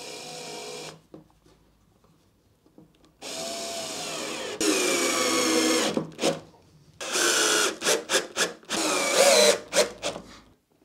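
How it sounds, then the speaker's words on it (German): A power driver sets screws through metal angle brackets into a wooden workbench in repeated bursts: longer whirring runs at first, then quick stuttering pulses, separated by near silence. "Nehme ich einfach hier solche Metallwinkel, die schraube ich in die Werkbank."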